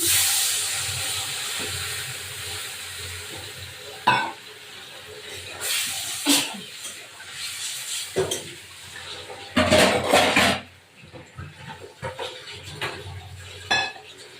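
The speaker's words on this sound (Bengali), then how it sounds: "এবার একটু জল দিলাম" Water poured into a hot pan of rohu fish curry gives off bursts of sizzling hiss and steam, with several loud surges over a low kitchen background and occasional clinks of utensils against the pan.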